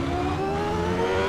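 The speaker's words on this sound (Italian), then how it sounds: "Sentite il Traction quando entra, sentite il rumore del Traction" A Tyrrell Formula 1 car in Assetto Corsa gives a loud, close engine whine with stacked tonal layers that climb slightly, its traction control cutting in beneath a continuous roar.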